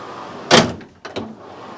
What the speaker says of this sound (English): A quick access pocket door